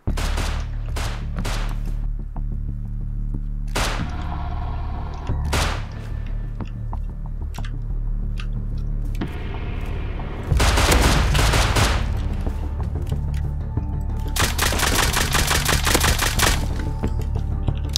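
Gunfire in the survival game Rust: sharp, loud single shots and bursts, first spaced in quick succession, then dense rapid automatic volleys near the end.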